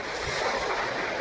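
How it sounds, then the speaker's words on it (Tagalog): Strong, steady wind by the sea along a seawall, a continuous roaring gust mixed with surf noise, alone with no talk. "kasi malakas ang hangin"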